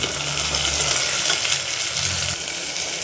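Tomato frying with onion, green chili and garlic in a pan for a homestyle veg pulao with soybean, a loud, dense, continuous sizzle close up, stirred gently throughout with no talking.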